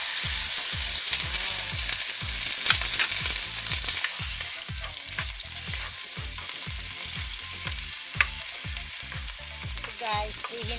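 Kimbap fries in hot oil in a wok with a loud, continuous close sizzle and a rhythmic low pulsing beneath it. No one speaks.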